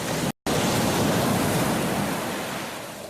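Waves break on a deserted beach, a loud, steady wash of surf that stays close and fills the whole stretch, briefly cut out once near the start, with no voices.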